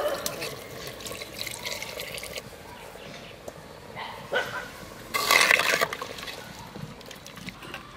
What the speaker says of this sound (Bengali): ঢাকনা খুলিয়ে দিছি, আমি জল দিয়ে দেব